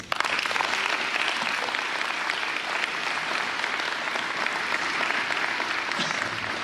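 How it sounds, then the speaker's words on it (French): Audience at a municipal New Year's greetings ceremony in Saint-Mard applauds the volunteers, a dense, steady wash of many hands clapping at close range, sustained evenly from start to finish with no talk on top. "je crois qu'on peut les applaudir"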